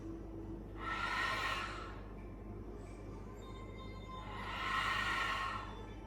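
Two slow, deep breaths during a prenatal yoga flow, each a soft airy exhale lasting about a second, close and quiet over a faint steady background hum.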